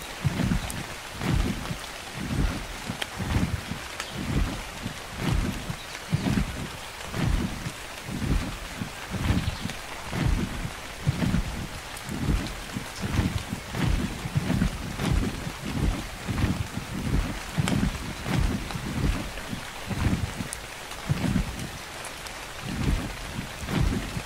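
Steady rain falls in the video game ARK Survival Evolved, a continuous hiss with regular low rumbling pulses throughout, fairly loud and with no voices.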